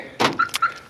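Side door lock on a 1994 Chevrolet Astro van releasing, a quick clunk followed by a couple of short squeaky clicks, close and clear with no talking.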